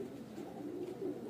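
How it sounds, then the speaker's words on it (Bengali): Three male Andhra pigeons coo together in a cage at dusk, a continuous faint low rolling burble with no clear breaks. "এখানে 3টে রয়েছে, এই 3টি নর পায়রা।"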